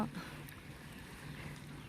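Faint, distant drone of a boat motoring along a river near Wat Phanan Choeng, a low steady hum under wind noise.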